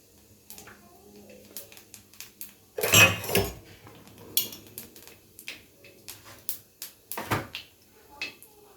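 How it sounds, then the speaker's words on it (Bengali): A utensil stirs black cumin seeds tempering in hot mustard oil in a wok, giving irregular metallic clinks and scrapes, with one louder clatter and scattered knocks against the pan, close by and with no talk over them. "ফোড়নটাকে একটু নেড়ে চেড়ে নেব।"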